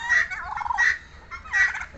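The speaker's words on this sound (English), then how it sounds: "here come the turkey couple" A pair of turkeys gobbling in a farmyard among chickens, guinea fowl and geese, three loud rattling gobble bursts spaced evenly across the clip, close by with no talking.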